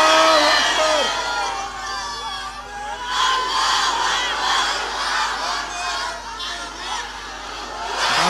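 A large crowd at a Bangla religious waz gathering roars a takbir chant together, a sustained, loud mass shouting that swells in repeated waves over several seconds, with an amplified voice opening it.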